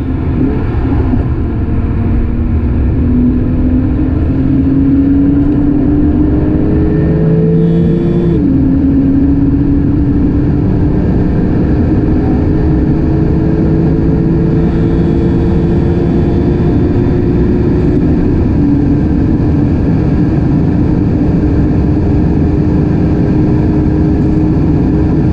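A 1980s Porsche 959 cruising at speed on a German Autobahn near Cologne, its engine droning steadily and loudly with rising and falling pitch as it pulls through gears, a constant rush of wind and road beneath.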